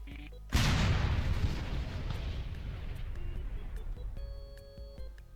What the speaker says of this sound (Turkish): Bunu da hemen şöyle bir şeyler yaparak patlatmaya çalışacağım.